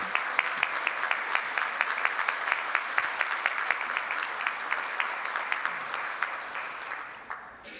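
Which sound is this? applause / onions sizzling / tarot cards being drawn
applause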